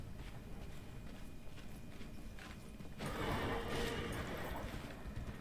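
Faint hooves of a dragon horse mount clip-clopping in the video game Darksiders Genesis, quiet under game ambience, with a louder wash of noise joining partway through.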